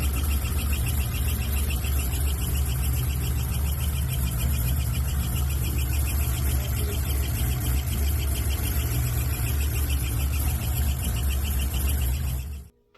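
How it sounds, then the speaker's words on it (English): A steady, loud Corvette C6 Z06 engine running close by, squeaking from the back of the motor near the flywheel, with a constant mechanical whine and rhythmic ticking over a low rumble, cutting off abruptly at the end. "The squeaking was coming from the back of the motor."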